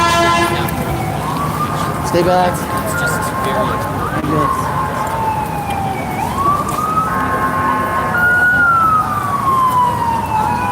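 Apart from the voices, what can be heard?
ambulance siren in traffic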